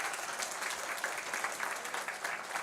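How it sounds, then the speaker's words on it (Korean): A church congregation applauds during a Sunday worship service, a brief, steady patter of many hands clapping together at moderate volume, without speech over it. "박수하겠습니다."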